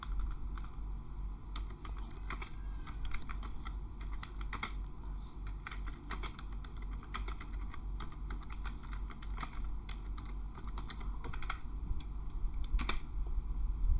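Typing on a computer keyboard to write out a promissory note amount in words, steady bursts of close, crisp key clicks with brief pauses, alone over a faint hum.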